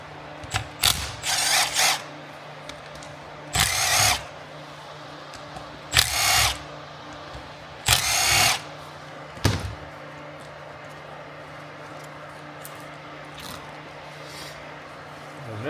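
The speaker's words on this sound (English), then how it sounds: "we got 4 10mm bolts we're going to remove" A power drill spins out four 10mm bolts from the pump of a JF011E CVT transmission. About five short whirring, ratcheting bursts stand out clearly, separated by quieter pauses, with no voices.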